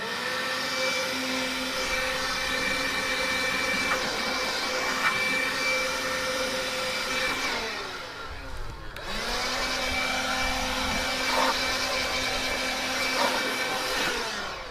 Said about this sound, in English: I guess we'll just a little blower here. I'll just get all the ash out of there,